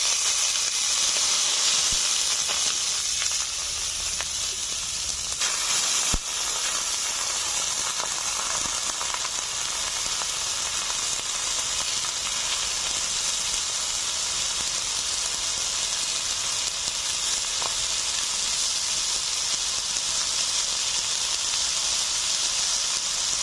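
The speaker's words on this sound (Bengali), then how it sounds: "এখন দিয়ে দিচ্ছি ধুয়ে রাখা শাক" Freshly picked, washed greens hit a hot pan in a village kitchen, setting off a loud, continuous hissing sizzle with a burst of steam at the start that settles into a steady roar for the whole stretch, no voices.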